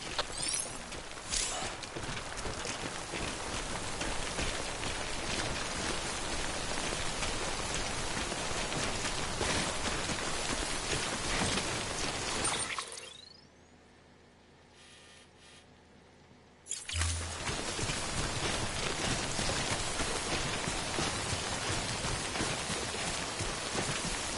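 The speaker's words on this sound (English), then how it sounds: "Don't stay out in the rain any longer than you have to." Timefall rain falls steadily in a video game, a loud, dense hiss that drops out completely for a few seconds midway before returning at full strength.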